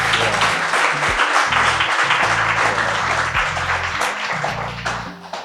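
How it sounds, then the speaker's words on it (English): Dense audience applause fills a social club event, steady and loud throughout, with a low music bed underneath and the clapping thinning slightly toward the end. "Guys, please can give them a round of applause one more time."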